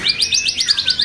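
A magpie robin (murai) sings a long, sharp cililin trill up close, a rapid run of about ten bright, evenly spaced chirping notes.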